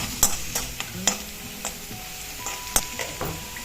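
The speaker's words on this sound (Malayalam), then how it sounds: "ഇഞ്ചിയും വെളുത്തുള്ളിയും ഒന്ന് മൂത്ത് വന്നിട്ടുണ്ട്." Ginger and garlic frying in a pan for pineapple pickle, a low sizzle broken by sharp, irregular clinks of a spoon stirring against the pan, close and clear.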